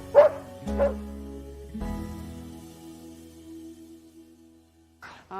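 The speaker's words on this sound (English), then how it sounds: "So these are some of our sled dogs" Iditarod sled dogs bark in a few loud, close bursts at the start, with a deep sustained tone running underneath, then another sharp bark near the end after a quieter stretch.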